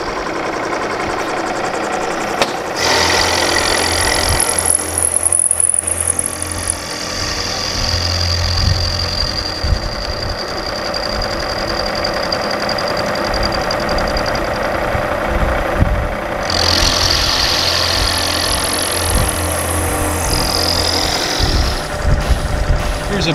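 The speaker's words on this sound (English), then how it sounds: "I got a milling machine" A milling machine runs steadily on a Chevy 292 cylinder head during a lump kit installation, a continuous mechanical hum and whine with cutting noise, fairly loud and close, with no talk.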